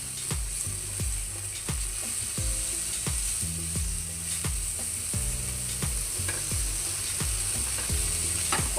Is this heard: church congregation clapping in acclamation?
no